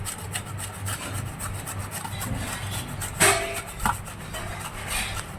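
Fish is rubbed clean by hand in a home kitchen, producing a steady, close rubbing and scraping texture. Two sharper knocks or clatters stand out briefly in the middle, with no speech.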